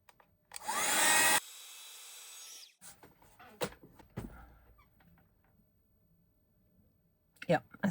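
Heat gun blowing a loud steady rush of air for about two seconds while melting embossing powder on paper, cutting off abruptly, followed by quieter handling clicks and rustles.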